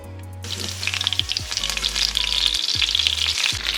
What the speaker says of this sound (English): While our chicken is frying, we're going to make our orange sauce